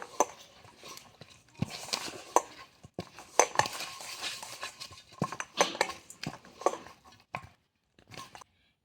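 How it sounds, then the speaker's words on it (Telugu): Puri dough being mixed and pressed by hand, soft irregular slaps, squishes and dull thumps up close, fairly quiet with brief pauses and no speech. "ఇలా చేతితో బాగా ప్రెస్ చేసేసుకుంటూ ఈ పూరిని పిండిని వచ్చేసి బాగా కలిపేసుకుందాము"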